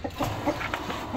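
Several short clucks from a rooster, irregular and close by, with light ambient noise around them.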